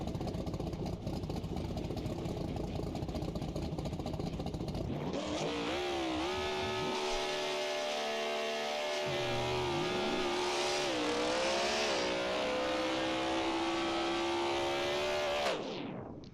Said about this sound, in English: Yeah, I know you guys hear that turbo.